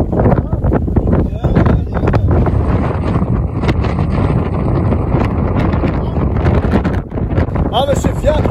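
Strong wind near mountains buffets the microphone in loud, continuous gusts, roaring and rumbling throughout.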